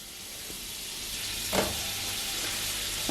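Butter melting in a preheated frying pan gives a soft, steady sizzle and hiss that runs throughout, with a couple of small taps, and no one speaking.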